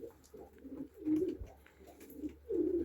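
Several pigeons coo in soft, repeated bursts in a cold winter loft at minus fifteen, moderately near but fairly quiet, with low rumble beneath.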